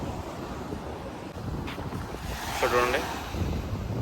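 Sea waves wash along the Salmiya seaside in Kuwait under gusty wind that rumbles on the microphone, with a swell of surf near the middle and a single spoken word.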